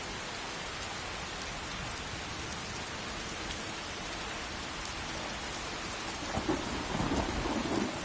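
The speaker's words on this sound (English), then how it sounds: "Raining again." Steady heavy rain pours in the video game Skyrim, with a dense even hiss and low rumbling thunder swelling toward the end, no voices.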